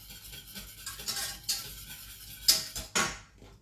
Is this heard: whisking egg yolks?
yes